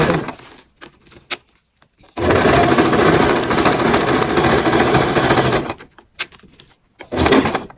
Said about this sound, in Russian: Так медленно начинаем шить.